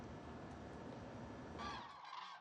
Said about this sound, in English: Hundreds of migrating birds fly past the full moon rising over the Hula Lake in the Galilee region of Israel.